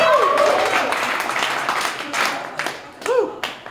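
Audience at a stand-up comedy show applauds, a broad wash of clapping with cheers and whoops rising over it, swelling near the end.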